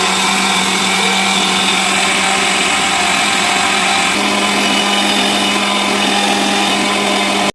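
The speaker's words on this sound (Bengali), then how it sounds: "এখন এই চালটা একটা ব্লেন্ডারে নিয়ে আমি ভালো মতো ব্লেন্ড করে মিহি পেস্ট করে নেব" Soaked rice is ground into a fine paste in a blender, its motor whirring loud and steady throughout before cutting off abruptly at the end.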